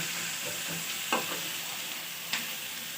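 Onions sizzle in a pan for a meal maker and potato curry, a steady close frying hiss broken by a couple of sharp scraping stirs.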